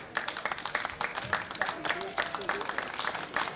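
After a men's Premier League water polo game on a sunny outdoor morning, a small crowd gives both teams a light, scattered round of applause under a commentator's voice.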